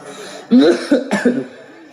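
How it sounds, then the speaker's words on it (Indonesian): A person coughs a few times in quick, harsh bursts, close and loud, after a quiet moment. "Eta batuk lain ceramah."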